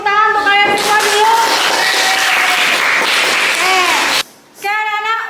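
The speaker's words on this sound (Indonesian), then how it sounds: "Tepuk tangan untuk kalian semua dulu." A classroom of students applauds in a dense, steady burst of clapping for about four seconds, with a teacher's voice speaking over it; the clapping then stops briefly and talking resumes.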